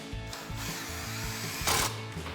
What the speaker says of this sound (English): So grab our impact and 13mm socket,